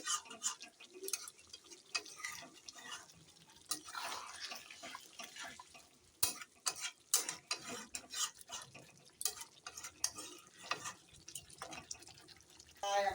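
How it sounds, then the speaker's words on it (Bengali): Mukhi kochu (taro) being stir-fried in a pan, with repeated scraping and stirring taps from a utensil against the cookware in irregular bursts, close and moderately loud, over a soft background. "এখনো কষানো হোক আর একটু"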